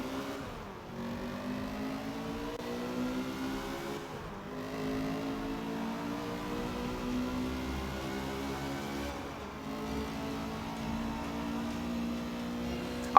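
Several race car engines rev and roar in Forza Motorsport 7, with steady pitched engine drone and shifting gears sweeping up through the race, loud and continuous with no speech.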